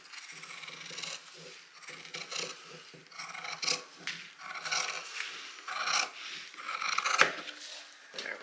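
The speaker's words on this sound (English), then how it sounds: "I just thought I'd like to do it with the scissors" Scissors slicing through handbag material, a series of quiet, crisp snips and scraping rubs repeating unevenly at close range.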